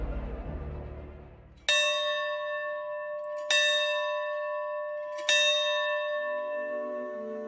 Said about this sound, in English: Every day at noon, a bell is rung in the cathedral. It's from HMS Liverpool, a World War II warship.